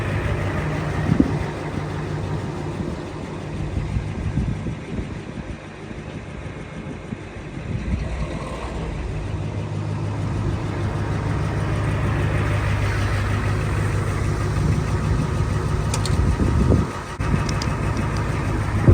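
A 1973 Ford F250 engine idles steadily throughout, a low constant drone with a brief rise in level near the end.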